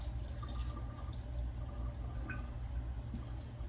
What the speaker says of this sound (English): So I'm gonna drain this water off.